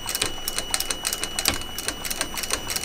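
A sewing machine double-seams a leather bag, with rapid, even needle clatter repeating at close range with no break.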